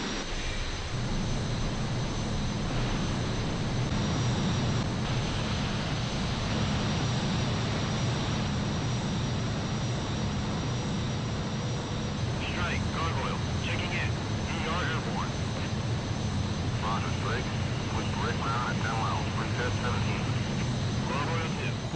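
Fighter jets in the PS2 game Energy Airforce roar continuously at launch, a dense, loud engine rumble throughout with a voice narrating over it.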